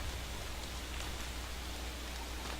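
Steady rain in the video game Don't Starve: Reign of Giants, a constant even hiss of falling drops with no breaks, fairly soft and heard alone without any talk.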